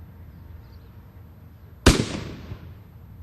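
A line-throwing gun fires its brass projectile outdoors in a single sharp, loud blast, followed by a rushing tail that fades over about a second, after a quiet stretch.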